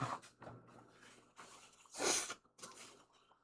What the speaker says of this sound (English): Hold on, I blow my nose again.